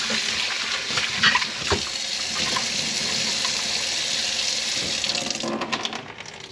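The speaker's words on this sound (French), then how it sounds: "Fait qu'un petit bain savonneux, un rinçage à l'eau tiède." Lukewarm tap water runs steadily from a faucet as a motorcycle air filter from a DRZ is rinsed after a soapy bath, a continuous close splashing with occasional louder gurgles and spatters.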